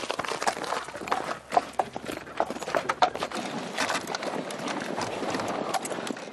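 Horse hooves clip-clop in a steady, close walking rhythm as the animal drives a Victorian cider mill on a farm, with faint outdoor background noise.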